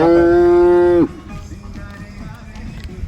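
A cow at a sale of HF and Jersey cows lets out one loud, drawn-out moo lasting about a second, followed by quieter low background noise.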